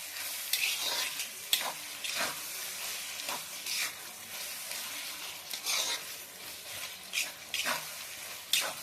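Chopped chicken pieces cook in a pan for pasta, hissing and sizzling steadily as a spatula stirs them in repeated scraping sweeps, up close and with no talking.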